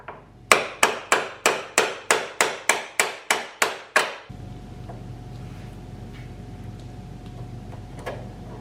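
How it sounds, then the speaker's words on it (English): Rubber (plastic-headed) hammer tapping a motorcycle foot peg bracket on a 2023 KLR 650, about a dozen sharp, evenly spaced knocks up close, followed by a low steady hum of background noise. "Let's get out the old rubber hammer."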